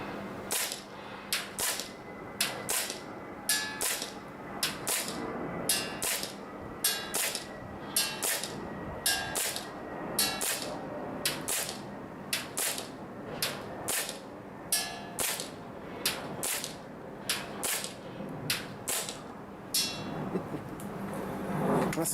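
An airsoft gas blowback pistol charged with green gas fires 0.3 gram BBs in a long steady string of sharp, snappy cracks, each shot distinct and evenly spaced, close and alone without talk.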